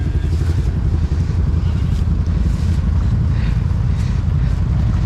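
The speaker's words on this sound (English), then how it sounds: "Jace, move your bike up" A dirt bike engine idles and creeps forward at an off-road park, with a steady low rumble and faint wind noise.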